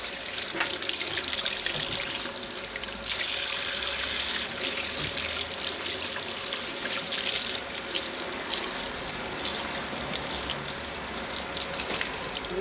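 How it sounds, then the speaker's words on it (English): Water from a salon sink sprayer streams and splatters over hair as bleach is rinsed out, a steady hissing wash lasting throughout, growing brighter and louder partway through, with small drips and shifts in the flow. "Now we're going to rinse out the bleach."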